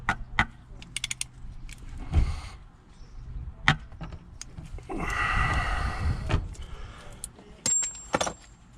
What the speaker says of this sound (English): tighten it with the ratchet